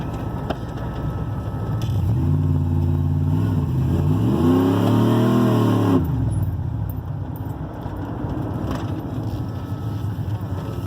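Engine revved while in gear, rising from a steady idle into a loud, harmonic climbing rev that peaks and then drops back to idle, heard close up with no talk.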